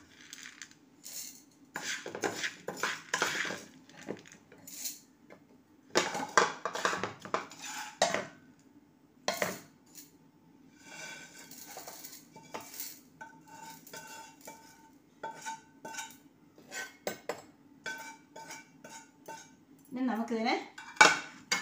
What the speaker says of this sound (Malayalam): വറുത്ത് വച്ചിരിക്കുന്ന സാധനം തണുത്ത് കഴിഞ്ഞ് ഞാനിനി അത് പൊടിക്കുന്നതിന് വേണ്ടി മിക്സിയുടെ ജാറിലേക്ക് ഇടുന്നു.